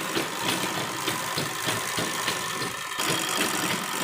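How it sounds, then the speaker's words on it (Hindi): An interlock (overlock) sewing machine stitches the edges of frock fabric pieces, giving a continuous loud motor whir with rapid pulsing, a brief dip near the end, then a resumed run, with no talking. "और अब हम सबसे पहले इसके ऊपर इंटरलॉक करेंगे दोनों में"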